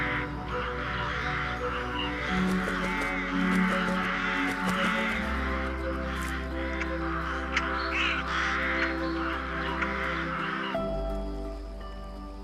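Crows or rooks caw repeatedly from a colony high in treetops, harsh calls overlapping at a moderate distance over a low steady hum, with no talking.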